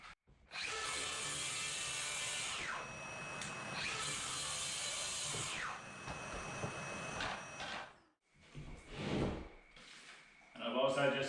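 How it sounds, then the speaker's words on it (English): A track saw makes a shallow scoring cut through marine plywood sheeting: two long, loud, high whining runs, then a few shorter, choppier bursts of saw and handling noise near the end. "using the scoring function on my track saw to do a score cut, and then I'll do a second pass to cut it completely."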